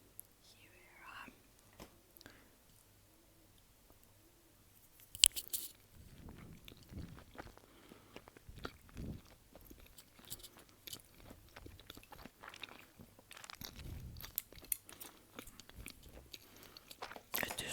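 Close-miked chewing and crunching of food such as salmon with miso sauce in an ASMR mukbang, with soft mouth sounds and bites coming irregularly under quiet whispered talk.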